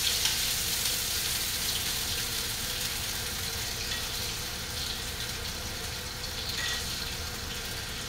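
Swedish meatballs fry in a pan over medium-low heat, giving a steady, even sizzle that holds at moderate loudness throughout with no talk.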